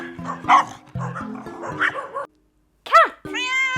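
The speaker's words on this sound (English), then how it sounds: "Dog, dog, dog." A dog in a children's animal-learning cartoon barks in a quick series of close, lively yips over cheerful music, then lets out a final higher bark after a short pause.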